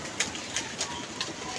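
Pigeons coo softly in a quick series of faint, evenly spaced calls over a low background hiss.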